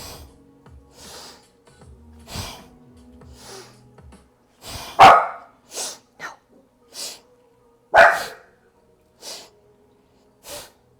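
A dog barks, sneezes and snorts several times at home during a Kundalini yoga class, sharp bursts spaced over several seconds, close by and fairly loud against an otherwise quiet room with faint background tones.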